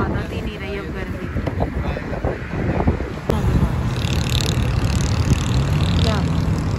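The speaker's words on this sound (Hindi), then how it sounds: "यहाँ आ गए, ठंडी हवा चली है" Cool wind blowing outdoors after rain in Islamabad, a steady rushing gust against the microphone throughout, with people talking over it.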